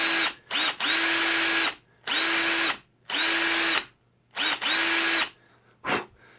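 A power drill grinds at the rivet of a Hot Wheels diecast car during a wheel swap, running in five loud, steady bursts of about a second each with short pauses between, ending in a brief final blip.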